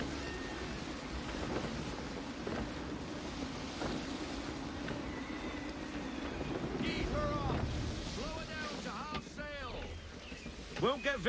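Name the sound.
gusty wind at sea while sailing a ship, from the video game Assassin's Creed 3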